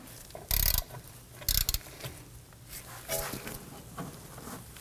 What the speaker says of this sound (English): then we're going to put our ratchet on there